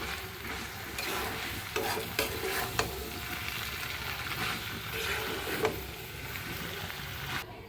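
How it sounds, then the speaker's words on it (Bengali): Food frying and sizzling in a pan while being stirred continuously, with steady scraping and bubbling, close and fairly loud, with no talk. "এখন নাড়াচাড়া করে তারপরে নামিয়ে ফেলবো"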